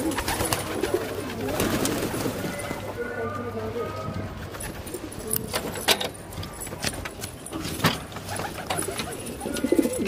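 A kalsira pigeon coos on a rooftop in low, repeated soft calls, mixed with rustling, clicks and faint background noise and voices.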